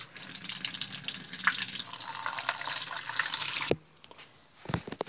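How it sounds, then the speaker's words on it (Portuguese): Running water from a tap splashes steadily while dyed hair is rinsed at a sink, then cuts off abruptly, leaving a few drips and light handling sounds. "Vamos enxaguar aqui, gente."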